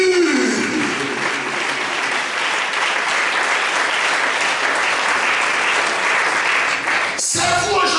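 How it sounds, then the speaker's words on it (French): Sustained, loud applause from a church congregation acclaiming Jesus during a Sunday service, a dense wash of clapping filling the room for several seconds before cutting off abruptly near the end. "Acclamons Jésus."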